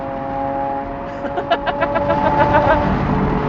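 A 2019 Lamborghini Aventador LP 740-4 S Roadster driven fast, its engine swelling through a series of rapid revving pulses over a steady road roar, heard close from inside the car.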